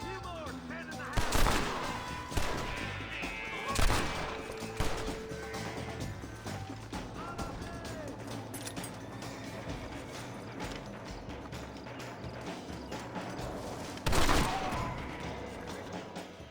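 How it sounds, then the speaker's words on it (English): Gunfire in the video game Red Dead Redemption, several sharp scattered shots over a busy background of game sounds and music, with voices talking. "Not a bad shot, Mr. Marston."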